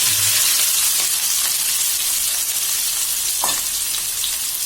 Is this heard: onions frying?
yes